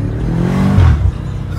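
A 2018 BMW F90 M5 engine revs in one short, loud, close burst with a deep exhaust burble that swells and then falls back.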